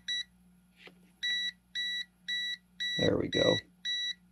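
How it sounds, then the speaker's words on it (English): A VENLAB digital multimeter's high live-voltage warning beep pulses repeatedly in short, evenly spaced bursts, with a brief spoken remark between them over a low steady hum. "It's beeping to warn me that it's live."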